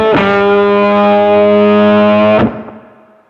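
A single loud, thick distorted guitar chord rings out steadily through a JAM Pedals Octaurus distortion pedal set with gain at noon, then is cut off abruptly, leaving a faint decaying tail.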